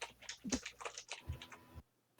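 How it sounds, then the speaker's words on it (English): Someone types on a computer keyboard at close range, a quick flurry of clicking keystrokes that stops before a brief quiet pause. "You typing that in, Mig?"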